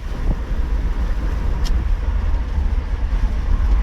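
A red 1998 Chevrolet Tracker driving with its top down on a warm day produces a continuous low engine and road rumble mixed with wind buffeting. One brief tick cuts through, and no one speaks.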